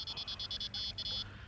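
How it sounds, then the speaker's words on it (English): A fishing rod bite alarm switched on at a riverside rod rest emits a run of rapid electronic beeps, then a longer steady tone, faint and close over quiet outdoor background. "Put the indicator on. Switch the alarm on."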